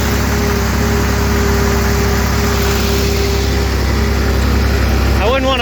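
A Comfort King light tractor engine running on a farm, a loud, steady idling drone that stays constant throughout, with a brief higher whine near the end.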